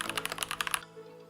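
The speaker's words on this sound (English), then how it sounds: "Since it's a mechanical keyboard, I am going to talk about the switches" A quick burst of typing on a MACHENIKE K600G mechanical keyboard, about a dozen crisp close clicks in under a second, then a quiet hum.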